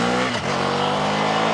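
A 2015 Ducati Scrambler motorcycle engine revs loudly and close by, holding a steady, rich harmonic drone with a brief dip and pitch sweep partway through.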